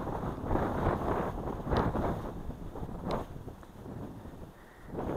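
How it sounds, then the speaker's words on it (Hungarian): Strong wind gusts roar across the microphone on a hiking trail in Hungary's Bakony hills, a steady, loud buffeting rumble that swells and dips throughout with no voices. "itt baromira fúj a szél"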